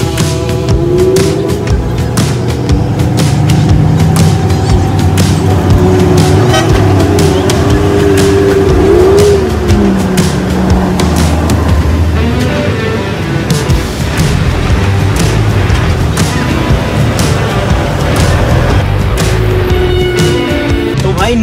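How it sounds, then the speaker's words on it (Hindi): A line of supercars pulls away through a crowded public street, engines revving and rumbling nearby as horns toot repeatedly, with a busy crowd and chatter underneath throughout. "गाइस चलो अपनी गाड़ियों को लेके चलते हैं यार।"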